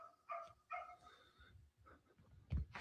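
A dog barks outdoors a few times in short, separated yips and woofs, distant and faint, with quiet gaps between and a louder thump near the end.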